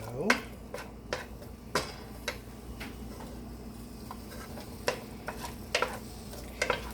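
Pasta primavera ingredients are stirred in a pan, with a series of light clinks and scrapes of a utensil against metal, close and scattered over a low kitchen hum.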